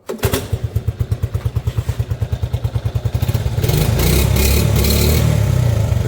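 Small Honda ATC 70 three-wheeler engine idling up close, a steady rapid thumping putter for about three seconds before it rises into a louder, rougher running drone.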